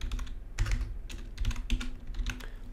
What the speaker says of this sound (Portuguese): na barra de endereço eu digito localhost